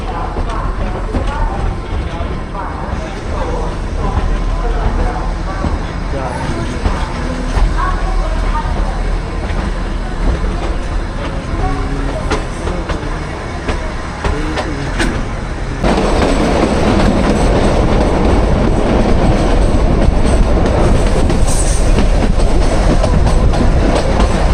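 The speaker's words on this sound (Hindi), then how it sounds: "ट्रेन खुल गया।" Shimla–Kalka toy train pulling away and running along the rails, a steady loud rumble with rhythmic wheel clatter that grows rougher and denser partway through, with people talking over it.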